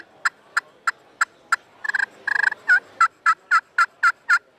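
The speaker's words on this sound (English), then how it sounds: "this is a glass for high pitch turkey sound" A glass turkey friction call produces a rapid series of sharp, high-pitched yelps, about a dozen evenly spaced, with a quick burst of clucks in the middle, loud and close.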